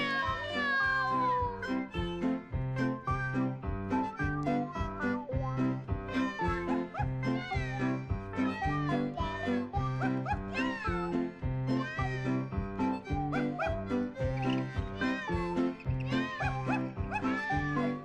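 A cat meows in a children's song, sung over a steady accompaniment of rhythmic bass and melodic instruments, with voices repeating the meows in time with the music.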